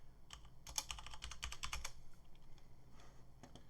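Fingers type a short word on a computer keyboard in a quick burst of close, soft key clicks, then a few scattered taps follow in an otherwise quiet room.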